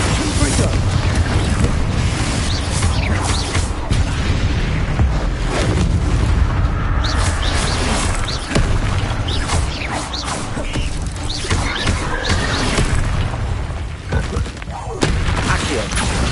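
Rumbling blasts and crashing booms from Confringo spells in Hogwarts Legacy, layered over constant noisy game ambience, loud and dense throughout with repeated impacts.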